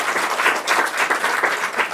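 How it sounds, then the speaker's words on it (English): Steady audience applause filling two seconds, a warm wash of many hands clapping at an even level with no speech on top. "Round of applause for that."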